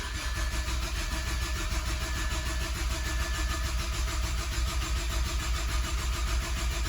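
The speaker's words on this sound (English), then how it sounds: "Now let's prime the engine real quick." A Mazdaspeed6 engine is cranked over to prime the oil after a turbo install, a steady mechanical drone running continuously without pause, a close, even whir.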